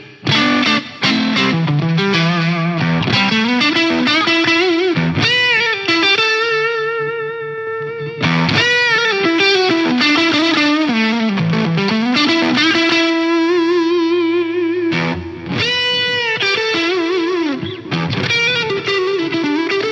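Overdriven electric guitar on the neck pickup through a Lexicon MPX G2 drive effect, playing sustained lead lines with bends and vibrato, loud and continuous with a slight noisy edge.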